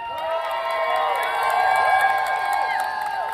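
A crowd at the Delco Trans & Queer March in 2025 cheers and claps, with whoops and high rising shouts layered over a steady roar that swells toward the middle.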